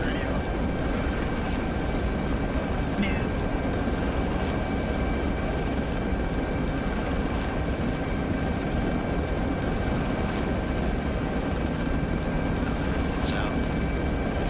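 A steady, loud helicopter engine drones continuously in the cabin, unchanging broadband roar with faint whines on top throughout.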